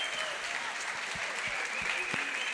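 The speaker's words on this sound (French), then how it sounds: "Tonnerre d'applaudissements" Applause from the audience at a customer experience awards gala fills the room, a continuous roar of many hands clapping with a few louder individual claps standing out near the front.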